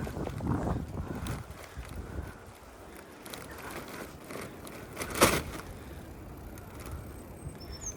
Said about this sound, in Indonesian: Dia angin yang dingin kalau di Holland